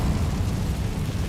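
Incendio fire spell cast in Hogwarts Legacy, a brief loud whooshing burst of flame, dense and roaring throughout.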